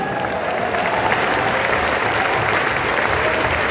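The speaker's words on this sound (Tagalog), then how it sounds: "Clap your hands and praise the" A church congregation claps hands continuously and evenly throughout, a dense, loud wash of applause with no pauses.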